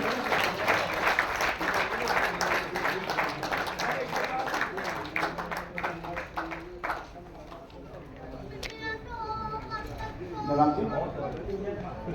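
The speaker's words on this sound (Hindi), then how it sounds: "एक बार तालियां बजा करके स्वागत करेंगे।" An audience at an annual school celebration applauds to welcome guests, with steady clapping for about seven seconds that fades while voices and some tonal sounds take over in the second half.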